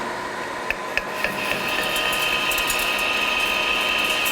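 New Lion lathe cutting, a few light mechanical clicks at first, then a steady whirring grind with a bright whine that builds and holds.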